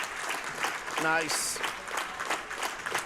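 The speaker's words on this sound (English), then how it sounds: "round of applause" Hobart Bearcats basketball fans applaud in an arena near the end of a game, a steady crowd clapping spread across the clip, with a commentator talking over it.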